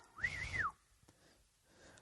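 A comedian imitates whistling at pet birds: one short rising-and-falling whistle, close and clear, followed by a few faint clicks and near silence.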